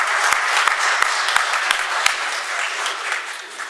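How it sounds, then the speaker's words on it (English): A crowd applauds in the Mississippi House chamber, a dense, loud, steady wash of clapping with a few sharper claps standing out, no talk over it. "Let's give her a round of applause."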